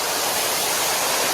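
Cedar Falls waterfall at Hocking Hills State Park roars close by as a loud, steady broadband rush of falling water, with no voices.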